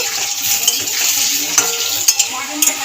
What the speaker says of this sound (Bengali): লাল লাল করে আলুগুলোকে ভেজে নেব